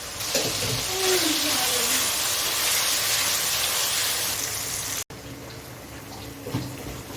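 Tomatoes fry in hot oil for chicken jalfrezi, giving a loud, steady hissing sizzle that carries on unbroken, cuts out for an instant, then continues a little quieter.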